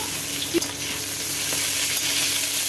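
Yardlong beans and vegetable stems fry in a pan with a dense, continuous sizzle, a couple of brief stirring knocks standing out near the start.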